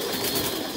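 Thai Titan pigeons give a soft, brief coo over a steady background hiss, heard close but only for a moment.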